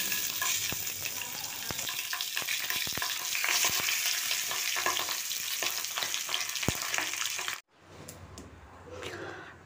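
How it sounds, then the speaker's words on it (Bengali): Scaleless fish fry in hot oil with a dense, continuous sizzle and crackle, dotted with sharp spits and pops, before the sound cuts out abruptly to quiet handling noises. "যেসব মাছের আঁশ নেই সেই সব মাছকে যদি এভাবে আমরা ভাজি তাহলে গায়ে তেল ছিটকায় না"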